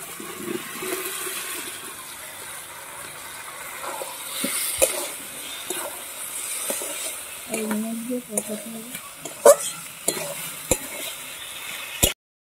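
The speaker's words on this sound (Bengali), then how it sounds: "ভেজে রাখা আলুটা দিয়ে দিচ্ছি" Fried potatoes are added to a pan on a wood-fired clay stove and stirred, with a soft sizzle running under scattered scrapes and knocks of the utensil against the pan.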